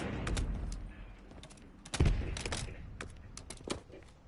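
Gunfire in a Call of Duty video game, a scatter of sharp shots in short irregular bursts with a heavier thump near the middle, fairly close and loud.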